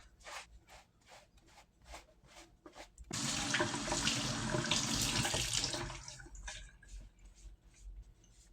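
Water splashes and rubs against a Cabbage Patch Kids doll during a sponge bath at a sink, a steady wet scrubbing burst in the middle between quieter, rhythmic dabbing strokes close by.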